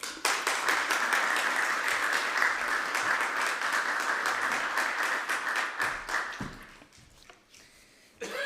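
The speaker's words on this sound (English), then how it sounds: "Please give her a big round of applause." Dense, sustained applause from a conference audience for a speaker at a European competitiveness event, loud and even for several seconds before thinning out into scattered claps.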